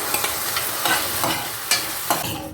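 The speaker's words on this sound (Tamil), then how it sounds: "இப்போது டொமேட்டோ மிக்ஸ் பண்ணிக்கிறேன்." Tomato is stirred into onion frying in oil in a pan for a gravy. A spoon scrapes in steady strokes over a constant close sizzle.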